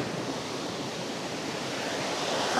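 Rushing water at the top of Catmon Falls, a hidden lagoon waterfall in Magallanes, Cavite, makes a steady, dense, broadband roar that stays constant and fairly close, with no voices.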